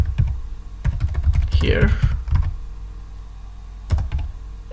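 Close computer keyboard typing in a few short bursts of crisp clicks, with a brief spoken word from a person in the middle.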